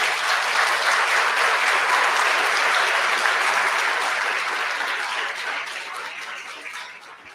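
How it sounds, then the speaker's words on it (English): An audience at a televised governor candidate forum claps in a dense, sustained round of applause that slowly tapers off toward the end. "please give a round of applause"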